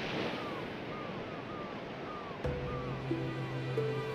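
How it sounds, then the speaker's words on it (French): Continuous rushing surf of ocean waves with faint gull-like cries overhead; partway through a low steady tonal hum joins the wash. "le bruit des vagues"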